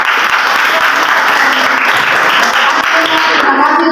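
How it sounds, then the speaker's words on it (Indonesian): A classroom audience applauds after a student presentation, a dense, even clapping that holds loud and close for several seconds. "Kita kasih aplaus dulu"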